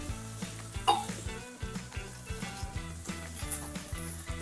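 Chicken pieces cook in a pan over medium heat with no oil, giving a steady soft sizzle close by, broken by a few sharp crackles and stirring clinks, with music playing steadily underneath.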